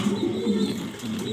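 A fancy pigeon coos close by in a series of low, throaty rolling calls, alone with no talking.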